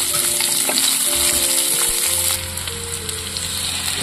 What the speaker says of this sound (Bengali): পেঁয়াজটা হালকা একটু ভাজাবো